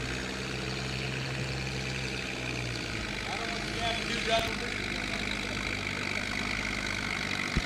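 A pulling tractor at a barnyard tractor pull in the 10,000 lb class at a county fair idles with a steady, heavy engine drone, with a crowd murmuring and voices talking over it.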